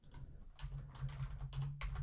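Typing on a computer keyboard while writing JavaScript code, a quick run of soft key clicks in short bursts, close and fairly quiet, with no speech.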